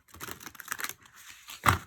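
Tarot cards are handled and shuffled up close in short papery flurries with small clicks, ending in a sharper snap.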